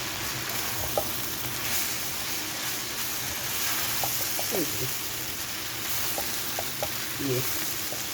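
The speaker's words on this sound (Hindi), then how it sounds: "अब हम इसको अच्छी तरह से मिक्स करेंगे।" Boiled noodles, two packets, being stirred in a frying pan for a chicken and vegetable spring roll filling: a constant soft sizzle with scattered light scrapes and clicks of the utensil against the pan.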